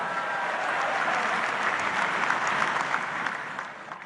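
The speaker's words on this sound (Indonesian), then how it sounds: "Luar biasa, tepuk tangan untuk kita semuanya." Steady applause from an audience at a Democratic Party congress, a dense clapping wash that holds evenly before tapering off near the end, with no voices over it.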